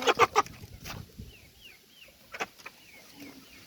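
Chickens cluck loudly up close while small chicks peep softly in short rising chirps in the background.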